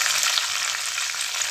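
Chopped green chillies hit hot oil in a pan for thin poha chivda, a loud, steady, dense sizzle of frying that holds evenly throughout, with no talk.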